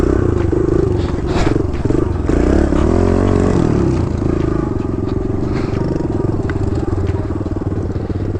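A dirt bike engine roars loud and close as the rider pulls a wheelie over wood, revs surging and holding with rough clatter and scraping beneath, while a voice is heard over it.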